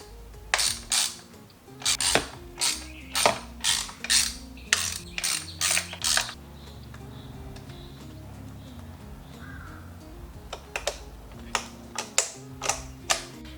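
A ratchet clicks in short, regular bursts as it snugs down coil pack screws on a BMW E36 engine. The clicking pauses midway, then a few quieter clicks return, heard close with no talking.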